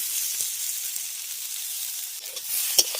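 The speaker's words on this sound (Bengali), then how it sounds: "এবার ঢেঁড়সগুলোকে একটু লাল লাল করে ভেজে নেব" Okra frying in a pan and lightly browning gives off a steady, bright sizzle, with a few soft stirring clicks near the end and no voices.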